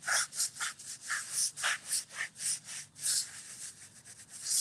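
A headstone is scrubbed with a brush, soap and water in a second pass, giving rhythmic, close back-and-forth bristle strokes that repeat about twice a second with no talking.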